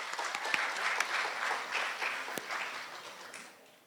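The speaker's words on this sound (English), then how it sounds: "So give our nominees a round of applause." Applause from an audience at a youth awards ceremony greets the award nominees: dense, steady clapping from many hands that holds for several seconds, then starts to thin and fade toward the end.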